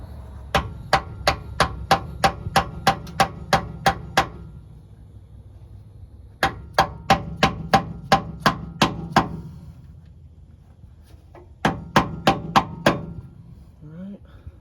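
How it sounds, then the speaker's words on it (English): A brass hammer strikes metal parts of an 80 Series Land Cruiser in three bursts of sharp, evenly spaced blows, about ten, then eight, then six, loud and close with faint background noise between. "It might be a little tricky to hit with the hammer."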